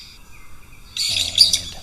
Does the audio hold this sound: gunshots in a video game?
no